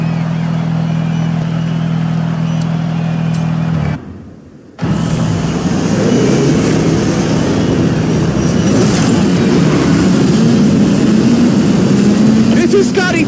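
The engines of a cargo plane roar steadily in the Forza Horizon 5 racing game. A loud, continuous drone is interrupted by a brief cut to near-silence, then returns with a broad rushing wind and a rising whine.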